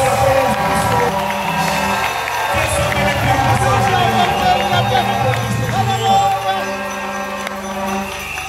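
A church congregation at a Sunday service breaks into loud, sustained acclamation and cheering, a dense crowd roar with whoops and raised voices carrying steadily throughout.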